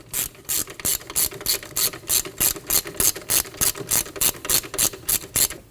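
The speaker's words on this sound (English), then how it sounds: "We'll tighten down the slider bolt." A hand ratchet tightens the slider bolt on the AC belt of a 2003-2006 Subaru Baja 2.5L H4, giving a close, loud series of about sixteen evenly paced clicking strokes with no talking.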